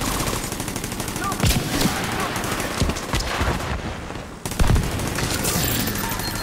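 Rapid automatic gunfire crackles nearly nonstop in a Division 2 shooter battle, with bursts of single shots and a brief lull before firing resumes, under someone talking in German.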